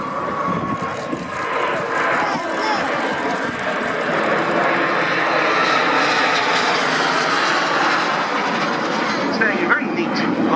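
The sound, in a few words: BAC Strikemaster jet aircraft flying display barrel roll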